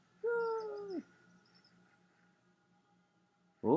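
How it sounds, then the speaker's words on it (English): An owl in a video game gives one drawn-out, fairly loud hoot over a quiet low hum. Faint chirps follow before a sudden new sound cuts in at the end. "Oh, it's an owl."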